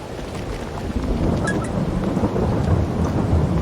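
Deep rumbling thunder rolls over a steady wash of heavy rain in a farming video game, loud and continuous with no voices.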